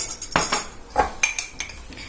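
A spoon clinks and scrapes against a cup while mixing instant coffee with a little milk into a thick dalgona paste, several short metallic strokes in a loose rhythm, close and alone.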